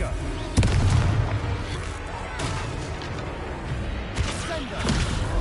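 Confringo fire-spell explosions in Hogwarts Legacy land as a few sharp booming blasts with rumbling tails over continuous game-battle noise, fairly close and loud.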